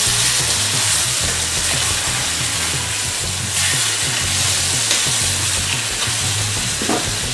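Blackened catfish fries in butter in a pan over turned-up heat, giving a loud, steady, close sizzle with dense crackling and spattering throughout and no voices.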